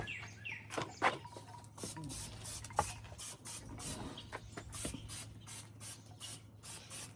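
Cooking oil sprayed from a can onto an outdoor grill before meat goes on, giving a run of soft hissy bursts over a steady low hum, with faint bird chirps in the background.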